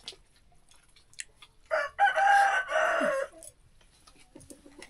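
A rooster crows once, loud and close, in a brief drawn-out cock-a-doodle-doo lasting under two seconds, with faint clucks and short bird sounds before and after in an otherwise quiet rural yard.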